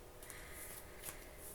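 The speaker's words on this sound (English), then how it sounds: "I think I'll have to shuffle again." Tarot cards being shuffled by hand, a steady close papery riffle and rustle running throughout with no speech over it.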